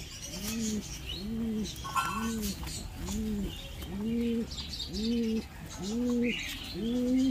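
A pigeon coos close by in a steady, repeated rhythm of about eight soft rising-and-falling calls, with faint chirps in the background.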